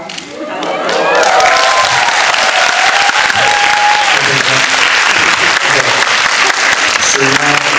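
Sustained applause from a large crowd at a birthday celebration, loud and steady, with scattered cheers and voices mixed in.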